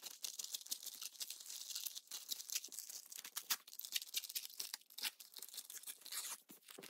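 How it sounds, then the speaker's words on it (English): Paper pieces are torn by hand around their edges, a close series of crisp ripping and crinkling bursts in an uneven rhythm, with no talk. "Now I'm going to tear around them."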